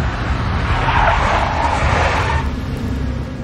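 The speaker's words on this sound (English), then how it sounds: "A big black Mercedes." A big black Mercedes skids in the Max Payne video game, with tires squealing over a loud engine roar that fades slightly toward the end.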